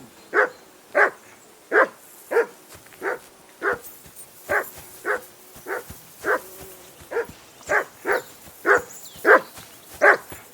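A dog in the medieval video game Kingdom Come Deliverance 2 barks about sixteen times in a steady, evenly spaced rhythm, each bark short and moderately loud against a quiet background.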